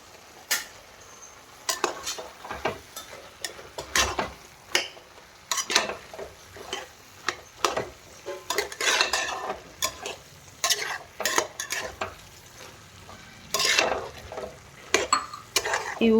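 Salt and spices being stirred through a cabbage and green pea curry in a pan, with irregular scraping clinks of a spoon against metal and a soft sizzle underneath, close by and without speech.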